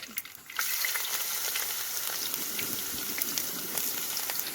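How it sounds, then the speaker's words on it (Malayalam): Black pepper and chopped ginger fry in hot coconut oil, giving a dense, even sizzle with fine popping crackles that jumps up suddenly after a quiet instant and stays steady and close. "ഒരു അര ടീസ്പൂൺ കുരുമുളക് ഇത് വെളിച്ചെണ്ണയിലേക്ക് ഇട്ട് കൊടുക്കാം"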